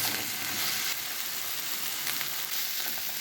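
Kofta and peppers sizzle steadily in a hot pan, giving a continuous bright hiss of frying oil that fills the whole clip with no talking.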